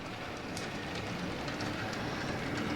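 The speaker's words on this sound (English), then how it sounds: "It is a really nice locomotive." An old die-cast Mantua Classics model train locomotive from the late 1990s or early 2000s runs along its track with a steady, dense rolling rattle and faint clicks, continuous and fairly quiet.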